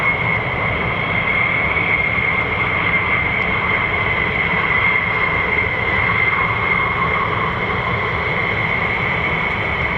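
An F-15 fighter jet powered by low-bypass Pratt & Whitney F100 engines at RAF Lakenheath makes a steady, loud engine roar with a sustained whine, unbroken and with no talk.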